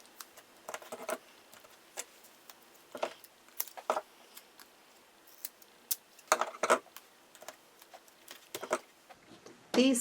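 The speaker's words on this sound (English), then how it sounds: "These scissors are these Tonic Studios. They're titanium, and they really do a good job not getting all gummed up." Tonic Studios titanium scissors cut card in a quiet craft room, giving sparse, crisp snips and rustles scattered irregularly, close and fairly faint, with a few louder clusters.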